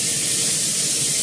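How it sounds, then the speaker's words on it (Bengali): Fresh oil goes into a hot pan for a fish curry, a loud, steady hissing sizzle that fills the whole brief moment without break. "এখন ফ্রেশ তেল দিচ্ছি"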